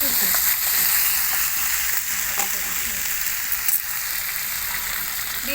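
Chopped tomato hits mutton already frying in a pan for Bengali mutton kosha, giving a loud, close, dense sizzle that stays steady with faint stirring scrapes and no speech.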